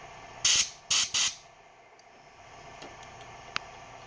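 Three short, loud bursts of compressed air blast out of a Graco Fusion spray gun during reassembly, each roughly a third of a second, followed by quiet room tone with faint clicks.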